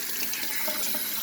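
Tap water running and splashing in a pot while dried red chile pods are rinsed clean of dust, a steady close wash with no speech.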